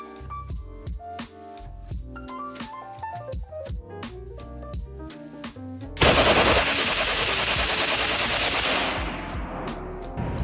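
A .50 caliber gun fires a long, loud, dense burst of sustained rapid shots that comes after a stretch of rhythmic music with sharp beats.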